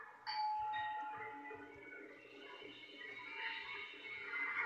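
A doorbell rings inside a house in a VR horror video game, a bright chime heard at the start and then softer tones trailing off over a quiet room hum, with no voices.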